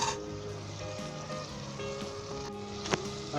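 Boiled white chickpeas and their cooking water going into a pan of sizzling tomato masala for a Kabuli chana shorba curry, a steady close frying hiss with a brief splash, no voices.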